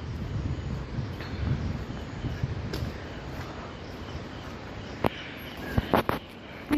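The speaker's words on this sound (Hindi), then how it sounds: "इतनी तेज़ हवा चल गई है यहाँ." Strong wind blowing along the Ganges near Rishikesh, a steady broad roar buffeting the microphone for the whole stretch, with a few sharp gust thumps near the end and no talking.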